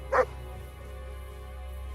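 A single short dog bark in Kingdom Come: Deliverance 2, fairly close, followed by a steady low game ambience with no further barking.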